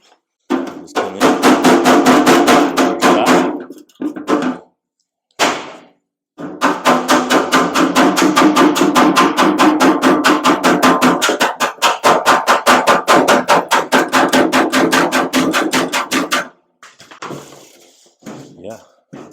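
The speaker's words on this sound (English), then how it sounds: "Couple little high spots from the hammer doing its work." Steel hammer striking over a dolly while straightening sheet metal on a 1956 International cab-over pickup truck, loud, rapid, evenly spaced metallic blows in long bursts with brief pauses between runs.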